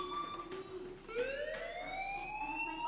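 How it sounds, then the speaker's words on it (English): A fire alarm blares in the video game Life is Strange, a loud shrill electronic tone that sustains, then slides upward in pitch and keeps wailing steadily. "Hey, do you hear that fire alarm?"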